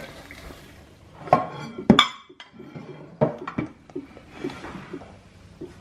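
Dishes and cutlery clink in a home kitchen as tavas and rice are plated, with a few sharp scattered clatters of utensils against plates over quiet background shuffling, no talk.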